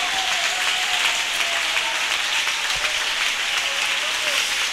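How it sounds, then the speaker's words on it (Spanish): A church congregation applauds during an evangelical Spanish-language service, a loud, dense and continuous wash of clapping that stays steady from start to finish. "aplauda a ese Cristo maravilloso"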